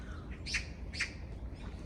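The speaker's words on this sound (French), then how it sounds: "Et vous avez plein d'oiseaux." Birds gathered near a small pond in Korea give two or three quick, close chirping calls over a low outdoor rumble.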